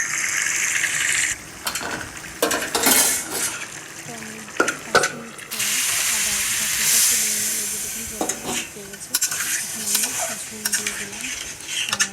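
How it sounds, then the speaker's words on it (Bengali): Fish heads fry in a pan of hot oil, giving a steady close sizzle broken by stirring scrapes and clinks of utensils against the pan. "অন্যদিকে আমি মাছগুলো ভেজে নিচ্ছি, মাছের মাথাগুলো।"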